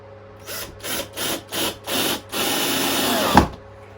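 Power drill driving a screw into a baseboard: five short trigger pulses of whirring motor, then a steady sustained run that ends in a sharp knock as it stops.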